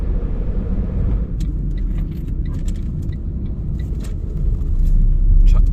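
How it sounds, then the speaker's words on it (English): Road noise from inside a car on a main road in France, with trucks behind and passing alongside; a steady low rumble swells toward the end as a heavy truck goes by close. "I've got one truck behind me and one going past me."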